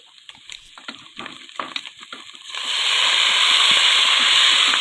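Onions sautéing in a pan, stirred continuously until golden, with faint scraping clicks that give way to a loud, steady sizzling hiss for the last two seconds, close by.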